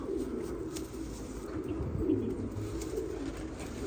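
Low, soft cooing from Mantolu pigeons repeats steadily over a constant background hum, with a faint higher chirp now and then.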